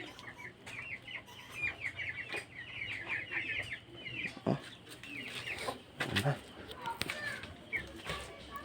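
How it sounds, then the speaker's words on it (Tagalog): Chickens cluck in short repeated bursts close by, with scattered bird chirps and people talking faintly in the background. "Ay, manok."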